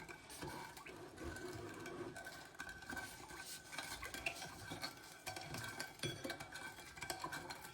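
A spoon stirs sugar in a pot as it melts, a soft continuous scraping and swishing against the metal, faint and close with no voices.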